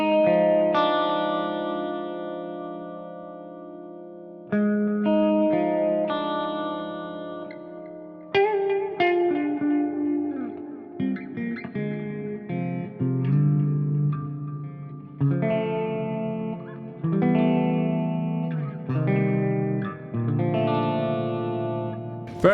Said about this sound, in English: let's have a look at the Space Exploration Spa preset, which sounds like this.